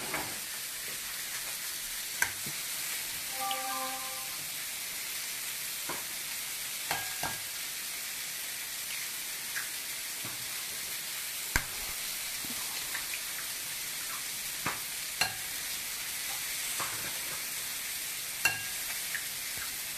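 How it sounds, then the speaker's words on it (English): A hot pan sizzles with a steady, crackling hiss while breakfast fries, with scattered pops and faint clinks throughout and no talking. "So I want to get that pan starting to heat up a little bit."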